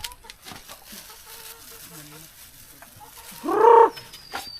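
Chickens clucking and a bird cooing on a farm at feeding time, mostly faint and scattered, with one louder call near the end over a quiet outdoor background.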